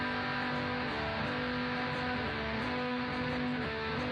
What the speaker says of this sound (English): I mute the top string with my thumb.